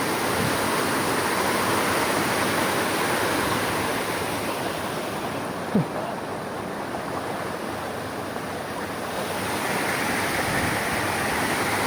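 Floodwater rushes after Typhoon Tino in Talisay City, Cebu, a loud, continuous roar of churning water that holds steady throughout with no breaks.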